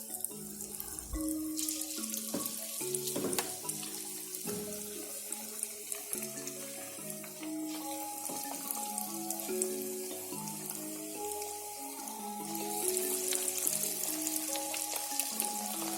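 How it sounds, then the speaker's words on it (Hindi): Meat and lentil barriyan dumplings dropped by hand into hot oil and frying over a medium flame, a crackling, bubbling sizzle with intermittent splashes and clinks, close and moderately loud, no speech. "मीडियम फ्लेम पर हम इसको फ्राई करेंगे।"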